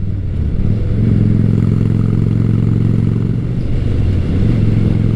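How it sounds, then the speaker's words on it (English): A Honda Shadow Spirit 750 cruiser motorcycle with aftermarket Cobra exhaust rumbles steadily and loud, with a deep, throaty exhaust note that rises slightly as it revs, continuous throughout with no voices. "This bike has Cobra exhaust on it, so it's a little bit louder than stock."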